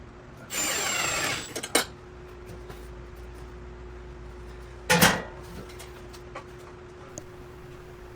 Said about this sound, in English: If you heard that clink, it was me dropping my drill bit into the tube